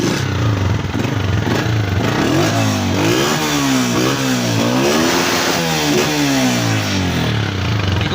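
Honda CG125 2020 motorcycle with a single-cylinder engine, serviced by Honda, revving up and down repeatedly at close range, loud and steady over about eight seconds.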